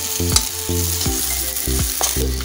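Litti roasting in a pan, turned over with a spoon: a close, steady frying sizzle broken by four or five regular metallic scrapes and knocks of the spoon against the pan, no voices.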